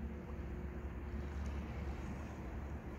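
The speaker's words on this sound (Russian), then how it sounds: "После ветра, посмотрите, какие завораживающие бархатные волны." Gentle sea waves washing steadily after the wind has dropped, heard from a yacht as a soft continuous wash with low rumble and light wind noise on the microphone, no voices.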